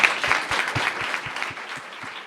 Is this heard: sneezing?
no